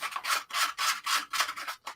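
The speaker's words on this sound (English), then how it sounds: "Bit of sandpaper." A small piece of sandpaper rubbed back and forth by hand, about seven even, close, raspy strokes in a steady rhythm with no talk.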